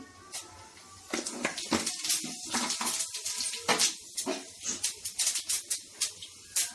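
Cumin seeds crackle and spit in hot oil during tempering for a mango ginger pickle, giving a close, steady run of sharp sizzling pops with no voices.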